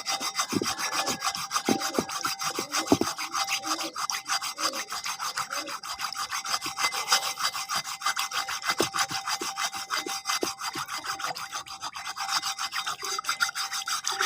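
Ingredients for a pigeon home remedy are ground on a stone in a continuous, steady back-and-forth rasping scrape, close and loud, with no talk.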